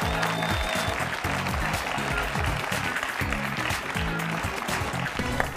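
Studio audience on a Greek quiz game show claps steadily to welcome a contestant, sustained applause lasting several seconds at moderate volume with no talk over it.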